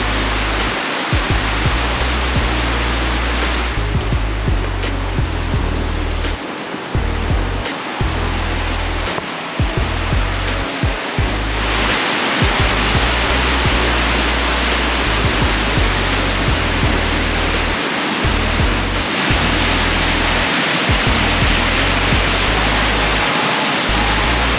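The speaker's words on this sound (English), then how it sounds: "So this is the first waterfall on the Ingleton Waterfalls Trail," Waterfall on the Ingleton Waterfalls Trail in the Yorkshire Dales roars close and steady, a dense unbroken rush of falling water with low rumbling underneath.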